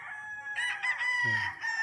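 Young gamecock stags about five to seven months old crow at a game farm, a short, fairly distant crow running about a second with a low-pitched bird call overlapping near its end.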